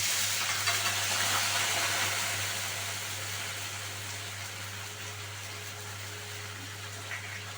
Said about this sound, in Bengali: এবার তেলের মধ্যে লঙ্কা আর জিরেটা দিলাম।